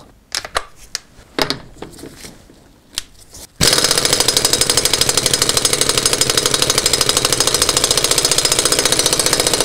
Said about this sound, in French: Je vais dévisser l'écrou de cardan et je vais utiliser ma clé à choc pour ça.